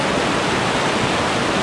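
River water rushes in a loud, steady roar of whitewater rapids, a dense continuous broadband wash with no voices over it.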